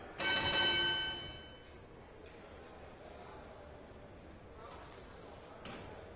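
A ringside bell in the WWE 2K25 wrestling video game clangs loudly and brightly once at the start, its ring fading over about a second before crowd ambience takes over, with a couple of faint later clanks.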